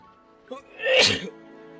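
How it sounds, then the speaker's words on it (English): A single loud sneeze up close, a short sharp breath in followed by the explosive burst, with quiet around it. "I'm about to sneeze."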